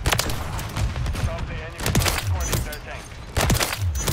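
RW1 pistol gunfire in a video game crackles as a rapid run of loud, sharp shots, several bursts of closely spaced cracks over roughly four seconds, with some game noise mixed in.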